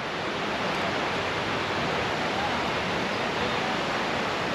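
Heavy water pouring down Athirapally waterfall in Kerala, a loud, steady, unbroken roar of rushing water heard close and filling the whole stretch, with no pauses or voices.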